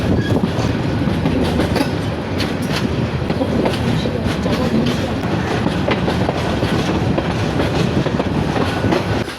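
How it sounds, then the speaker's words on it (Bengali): A local passenger train rumbles loudly along the tracks while crossing points near Parbatipur junction, with a continuous, steady roar and faint rhythmic clatter of wheels, close and unbroken throughout. "আমাদের ট্রেনটি এখন লাইন ক্রসিং করতেছে"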